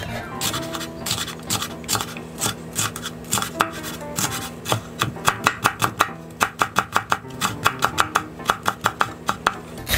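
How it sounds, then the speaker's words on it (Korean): A knife finely chops bell pepper on a cutting board for an enoki mushroom pancake, starting as scraping cuts and building into a quick, regular run of crisp close taps. "파프리카도 먹기 좋게 곱게 잘라주세요."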